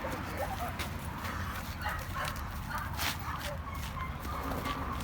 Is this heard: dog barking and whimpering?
yes